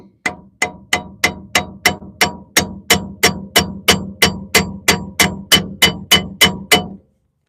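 A hammer strikes a wrench onto a rusty brake line nut, about nineteen sharp metallic clanks in an even, steady rhythm, loud and close, with nothing else heard.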